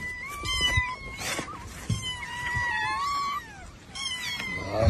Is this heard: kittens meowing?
yes